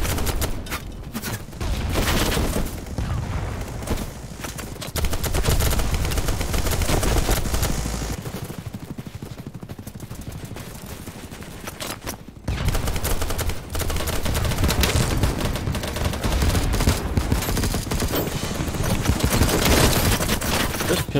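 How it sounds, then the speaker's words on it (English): Dense, sustained gunfire from a pistol and other weapons in the shooter game BattleBit Remastered, loud and continuous across the whole stretch with a brief lull in the middle. "Pistol packs quite a punch."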